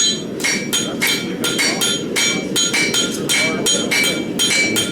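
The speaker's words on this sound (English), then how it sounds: "take it over the horn of the anvil right there and hit it" Hot metal hammered over the horn of an anvil, a steady run of sharp ringing metallic strikes, roughly two per second, close and loud and alone, with no talk.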